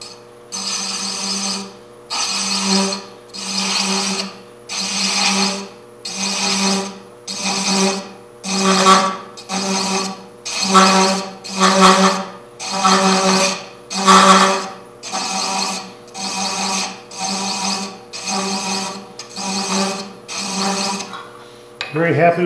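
A handheld tool rasps rhythmically against a spinning wooden box on a lathe as threads are cut, repeating scraping strokes roughly every second and a half over a steady motor hum.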